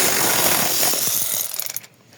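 Bolt nuts are loosened from the rear evaporator of a 2010 Ford Everest with a ratcheting tool, a loud, rapid mechanical rattle that breaks into a few clicks and then stops.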